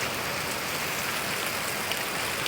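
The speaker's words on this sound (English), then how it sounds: "Heavy downpour." A heavy downpour of the season's first rain falls steadily, a dense continuous hiss of drops drumming on surfaces nearby with no pauses and no voices.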